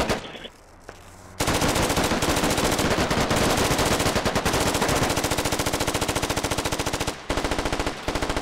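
Sustained loud automatic gunfire in the Squad video game, a long rapid burst of shots with brief breaks, close and dominant throughout.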